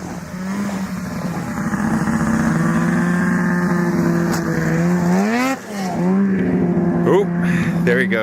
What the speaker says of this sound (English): there's a snowmobile coming.